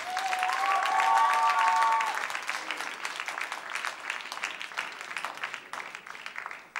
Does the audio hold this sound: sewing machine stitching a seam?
no